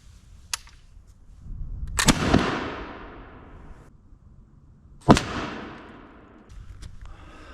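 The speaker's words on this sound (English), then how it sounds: "with 110 grains, see how it differs before I switch to the 71. Here we go." A musket fires a .69 caliber ball with 110 grains of black powder outdoors, two loud sharp booms several seconds apart, each followed by a rolling echo that trails off.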